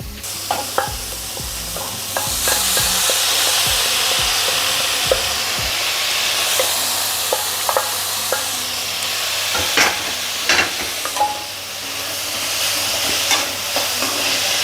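Snake gourd and onions sautéing in oil in a pan, a continuous sizzle and hiss broken by frequent stirring scrapes and taps of the spoon, close and steady throughout, with no talking.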